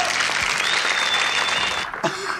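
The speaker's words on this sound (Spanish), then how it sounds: "Fuerte el aplauso para ella," Studio audience applauding Wendy on a Peruvian comedy show's mock Miss Peru pageant, a dense burst of clapping that fades near the end as a voice cuts in.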